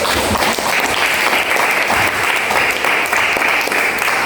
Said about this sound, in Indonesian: Aplaus dulu untuk.